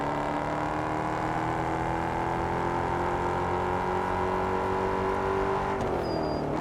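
A steady, droning Ford Mustang V8 engine roar in the video game Test Drive Unlimited Solar Crown holds a high rev with a muscular harmonic tone, then dips slightly near the end, continuous and close.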